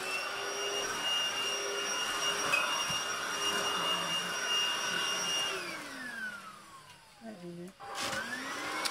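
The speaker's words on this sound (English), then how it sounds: "Vacuuming under my telescope now" A Lidl cordless vacuum cleaner runs with a steady whine close by. Its tone dips and shifts near the end as the cleaner is moved around under a telescope.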